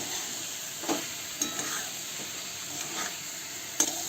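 Potato slices coated in masala and salt stir-fry in a pan over a raised flame, giving a soft, steady sizzle with a few scattered scrapes of the spatula, quiet and close.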